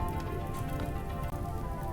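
Rain in the video game RimWorld, a steady patter of drops on surfaces forming a soft continuous hiss, moderately quiet, no voices.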